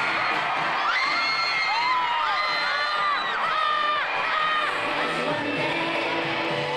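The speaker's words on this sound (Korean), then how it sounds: "극장 스크린으로 보는 공연 녹화 테이프에도 소녀들은 환호한다." Hundreds of teenage girls cheer and scream continuously at a screened recording of a Korean girl group concert in a theater in Vietnam, with high shrieks rising and falling over a steady crowd roar.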